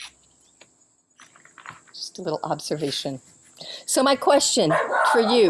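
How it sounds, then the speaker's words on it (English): A dog barks several times in the background, sharp barks overlapping and partly masked by someone speaking close to the microphone, with crickets faintly audible. "sorry about the dog."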